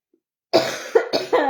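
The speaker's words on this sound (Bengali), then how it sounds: "মানে কাশি হয়ে গেছে আমার আজকে" A person coughs several times in a close, loud burst of rough hacking coughs after a moment of silence, with short pauses between them; the person is unwell.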